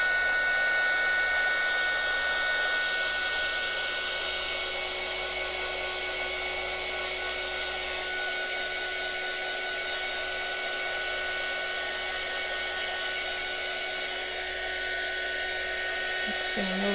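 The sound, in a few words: hair dryer blowing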